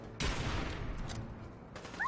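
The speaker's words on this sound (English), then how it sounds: "this thing's 50 cal, isn't it? It's like a goddamn cannon." A .50 caliber gun firing in Fallout 4, a heavy booming shot with a long rumbling tail, followed by a second sharper report near the end.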